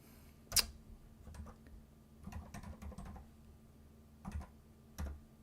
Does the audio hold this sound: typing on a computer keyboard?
yes